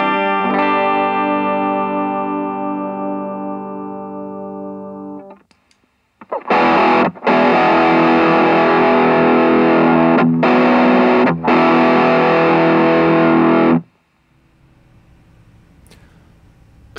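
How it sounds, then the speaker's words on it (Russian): Electric guitar on the bridge pickup through a MUZA FD 500 multi-effects pedal: a clean chord rings and decays for about five seconds, then a loud, dense, distorted passage plays with a few brief cuts before stopping. "Давайте пробежимся по всем пресетам, начнем с чистого звука, бриджевый датчик."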